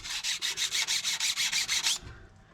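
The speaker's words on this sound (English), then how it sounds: "Give it a gentle bit of a sand down and make sure that's clean." A part on a Holden HT Monaro being hand sanded before cleaning, heard as about a dozen even, rhythmic rasping strokes, close and loud, that stop abruptly, followed by a soft thud.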